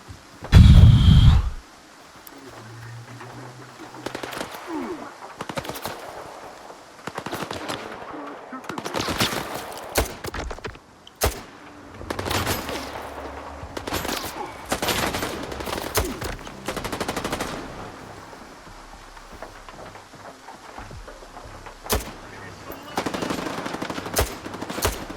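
Bursts of automatic gunfire and scattered single shots in the shooter game S.T.A.L.K.E.R. 2, loud and close with repeated volleys across the span, over a low rumbling background.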